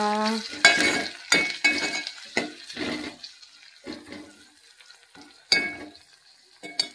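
Onion, garlic, cumin, green chillies and curry leaves sautéing in a pan, with a soft continuous sizzle broken by a series of sharp scraping stirs of the spoon, close and fairly quiet.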